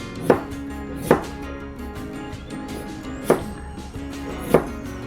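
A knife chops carrot for a spicy Korean crab salad, giving four sharp, separate strikes spaced unevenly over a quiet room background.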